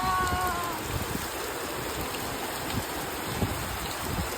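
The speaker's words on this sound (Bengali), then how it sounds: "এখানে বৃষ্টি পড়ছে" Steady outdoor rain pours down around midday, a dense, even hiss that stays close and fairly loud throughout with no pauses.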